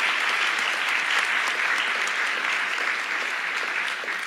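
An audience applauds speakers at the close of an evening talk on the universe, with steady, dense clapping filling the room from start to finish with no voices on top.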